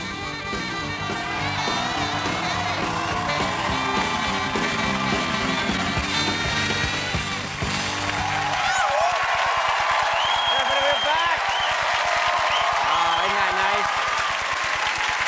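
A studio audience at a host's Canada show claps and cheers in a steady wash of applause, with music under the first half and a voice shouting over the roar later.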